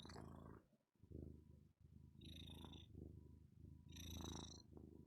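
A cat purrs right up close, a continuous rumbling throb that swells and dips across the stretch with small breathy trills on top and no talking.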